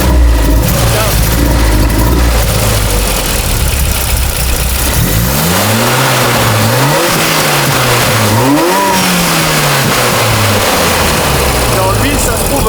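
A car engine idles low, then revs up and down several times in rising and falling sweeps, close and loud, with the engine suspected of cutting out and voices talking nearby.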